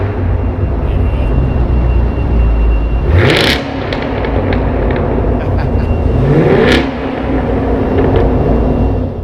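A Chevrolet Camaro SS with a 6.2-litre 450-horsepower V8 rumbles loudly at close range, with deep steady low-end growl and two sharp rev blips rising and falling partway through.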